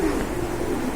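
A pair of black Dauka pigeons coos in a low, steady, continuous murmur, close by and fairly loud, over one brief stretch with no talking.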